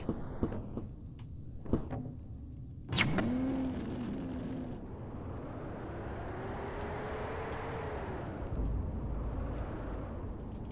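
A car in Juice Galaxy drives with rocket thrusters, opening with a few bumps and clunks before a sustained whooshing roar that swells and pitches up and down across the stretch.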